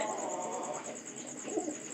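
A pigeon gives a brief, faint coo against a steady background hiss, with no one talking.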